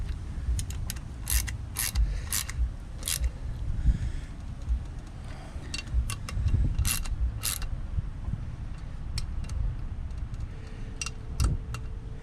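Bolts being tightened on a spring-loaded chain tensioner for a 49cc–80cc motorized bicycle engine, threading into aluminum: repeated sharp ratcheting clicks in short bursts over a low mechanical rumble, fairly close, with no talking.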